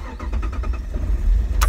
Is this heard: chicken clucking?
no